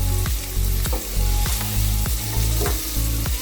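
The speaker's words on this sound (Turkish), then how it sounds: "Bir 5 dakika bu şekilde güzelce kereviz ve havuçlarımı kavuracağım" Diced celery and carrots fry in a pot for celery soup with a constant close sizzle, punctuated by regular scraping stirs every half second or so.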